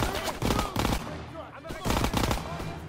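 Rapid automatic gunfire from the World War II shooter game Call of Duty: WWII comes in dense, loud bursts. The bursts are broken by a short lull, with faint voices and game noise under the shots.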